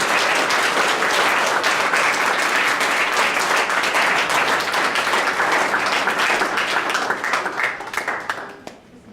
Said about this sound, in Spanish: Pues dale una ofrenda de palmas al que vive.